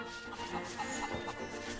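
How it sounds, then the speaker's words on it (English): A cucco chicken in the game Link's Awakening on Nintendo Switch clucks in a few quick, faint bursts over a steady background of game music. "Chicken!"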